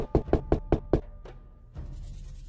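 Five quick, heavy knocks on a door in a dramatized scene, loud and close, followed by a low rumbling background.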